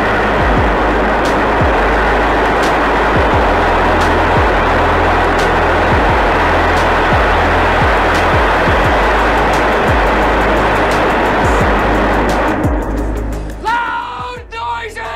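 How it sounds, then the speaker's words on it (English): SpaceX Starship Booster 7 static fire with 11 Raptor 2 engines on the orbital launch pad, a continuous loud distant roar with a rhythmic low pulsing, dropping off near the end. "Booster 7 completed a long-duration static fire test, I counted 13 seconds, of 11 Raptor 2 engines on the orbital launch pad"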